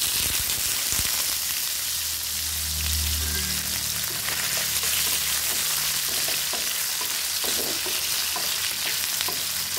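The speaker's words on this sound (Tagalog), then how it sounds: "Nagpainit ko og oil guys, iluto ko ang fishball at saka hotdog." Fishballs and hotdogs fry in hot oil with a steady, dense sizzle and crackle throughout, close and fairly loud, with occasional stirring clinks and a low background hum.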